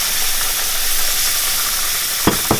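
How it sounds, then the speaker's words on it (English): Steady frying sizzle from a hot pan, with a couple of sharp scraping knocks near the end as food that is starting to stick is stirred. "And I'm just going to stir because it's starting to stick."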